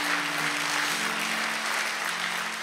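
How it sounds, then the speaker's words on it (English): Church congregation applauding for the Lord during a worship service, a sustained wash of many hands clapping together at moderate distance, with a faint held tone underneath and no speech. "Let's put our hands together for the Lord."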